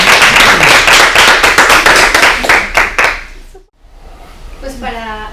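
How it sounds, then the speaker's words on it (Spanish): A conference audience on museum sustainability breaks into loud, dense applause for about three seconds, then it fades out and a voice begins speaking. "Bueno, ahora me tienen que aplaudir."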